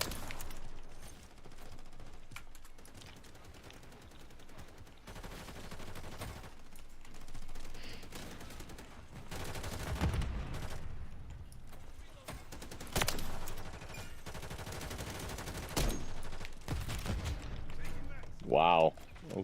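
An automated turret in a multiplayer shooter rattles off bursts of gunfire, with several louder sharp shots standing out, while players talk over the action throughout.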